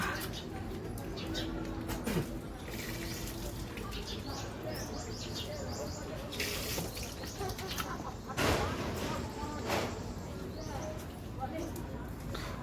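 Pigeons and other birds call and coo around a temple in Asansol, scattered bird sounds rising over a busy, noisy crowd backdrop with people talking nearby.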